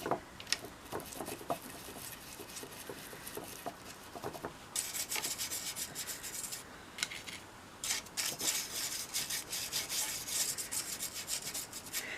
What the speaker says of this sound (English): So I just take some machine oil on this and I just go over it